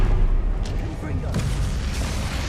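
The Confringo fire spell bursts in Hogwarts Legacy, a deep booming blast rumbling over game sound, loud and near, with talking over it.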